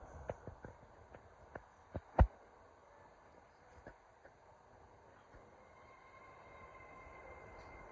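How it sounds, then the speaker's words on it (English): An LNER Azuma train, 800-101, pulls away from York station with a few sharp clanks and knocks early on, then settles into a quiet, steady rolling hum. "And off goes 800-101, working the 1258 LNER Azuma service from Aberdeen to London King's Cross."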